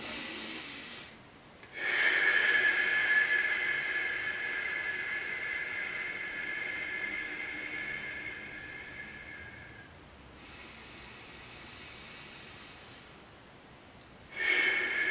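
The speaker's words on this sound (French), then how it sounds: "Donc juste de prendre des respirations comme..." Slow, deep breaths are drawn in and let out for calming, with a long airy inhale and exhale that are close and steady and separated by brief pauses, and no talking.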